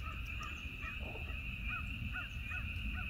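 Crows caw at sunset in a string of short, distant calls over a constant outdoor hum and a steady high-pitched insect-like drone.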